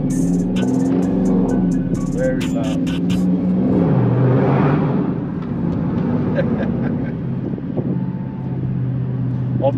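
Dodge Charger R/T with the 5.7 Hemi V8 on a test drive, its engine droning steadily from inside the cabin with a brief swell under acceleration, and someone talking over it throughout.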